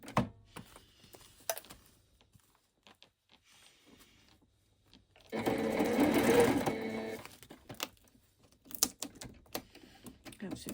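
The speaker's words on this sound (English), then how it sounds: "I'm just going to sew this down onto it." A sewing machine stitches fabric down onto a title page with one sustained whirring run of about two seconds. Short taps and clicks come before and after it in a quiet room.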